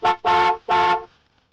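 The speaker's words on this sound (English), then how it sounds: "A horn honked from somewhere outside the park" A car horn honks outside a park: three loud, close blasts, a short toot followed by two longer tones, then quiet.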